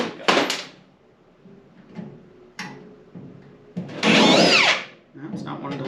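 Power drill boring a hole in the sheet-metal cowl of a 1953 GMC truck, a loud high whining burst lasting about a second after several clunks and short knocks, with people talking nearby.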